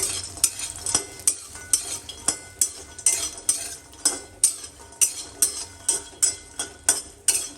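Lentil dumplings (bori) frying in oil in a pan, with rhythmic metal spatula strokes clinking against the pan over a light sizzle, close and regular.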